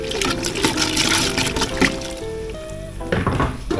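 Orange peel boils in water while being stirred, giving bubbling and sloshing liquid sounds up close, with a few clinks against the pot.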